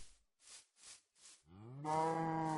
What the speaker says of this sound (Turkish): Bakın orada bir tane inek var.